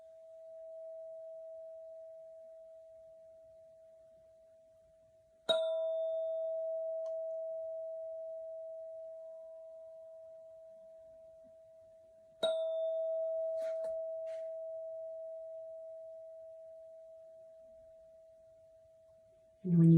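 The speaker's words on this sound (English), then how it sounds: "bring your attention right now to the sound of the bell" A mindfulness bell rings three times with a clear, pure sustained tone, each strike sharp and then slowly fading into quiet, in a hushed family meditation setting with no talking.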